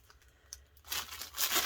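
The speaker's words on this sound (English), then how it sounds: "Sorry about the crinkling." Crinkly plastic packaging around a set of reusable silicone bowl covers rustles and crackles close by. It starts as a few faint ticks, then turns into a louder, continuous crinkling that swells toward the end.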